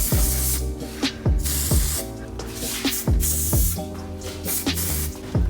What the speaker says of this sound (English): Gonna spray it up.